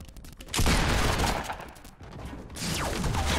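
Fortnite Battle Royale gunfire: a dense, loud burst of rapid shots that breaks off briefly and then resumes, with faint talk underneath.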